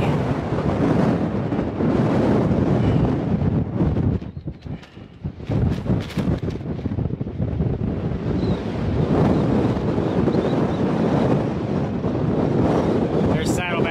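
Strong wind on the Appalachian Trail buffets the microphone in loud, roaring gusts, with a brief lull partway through before the rushing picks up again.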